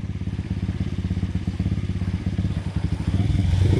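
A Pitgang 140XD enduro dirt bike pulling away in first gear, its small single-cylinder engine chugging in rapid even pulses close by, rising in pitch and loudness toward the end.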